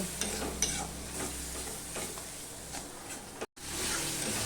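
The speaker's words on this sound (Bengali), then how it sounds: "মশলাটাকে আমি কষিয়ে নেব" Spice paste for a pomfret fish curry sautéing in a pan with a little water, a steady close sizzle broken by repeated scraping stir strokes, with a brief dropout near the end.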